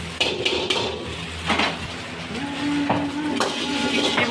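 A knife chops chicken into small pieces for chow mein on a board in a kitchen, giving scattered close taps and clatters among dish and utensil sounds, with no talk over it.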